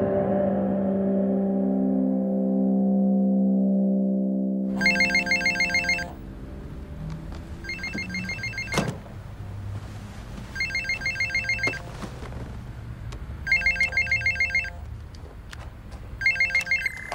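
Telephone ringing in a French thriller scene, five evenly spaced bursts of bright electronic trilling ring out after a sustained low tone fades, each ring loud and close.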